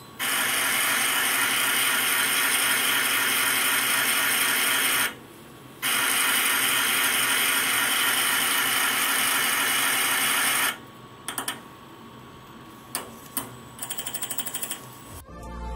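A Siemens SINAMICS S200 servo motor spins during one-button tuning within a 720-degree rotation limit, giving a loud, steady mechanical whirring in two long runs separated by a short pause, then sparse clicks and short quieter bursts.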